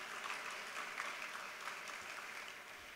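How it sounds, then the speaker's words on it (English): An audience at a city's state-of-the-city address applauds steadily, a dense wash of many hands clapping, heard from a distance and fairly quiet, with no talking over it. "Clap for that."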